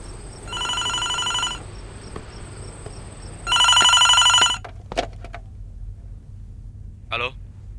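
A telephone rings unanswered indoors: two loud electronic ring bursts about a second long, separated by a pause, followed by faint clicks and a brief chirp, with no talk over them.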